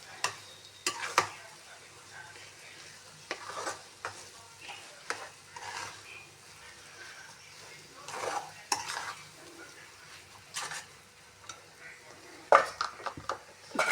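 Upma cooking in a pan is stirred and pressed flat to break up lumps, giving close, irregular scraping and tapping strokes over a soft, steady sizzle, with no one speaking.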